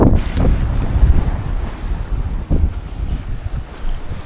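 Breezy wind on a warm Saturday evening stroll on the island of 'Eua, buffeting the microphone in a steady rushing roar with gusty swells and a few thumps, no voices.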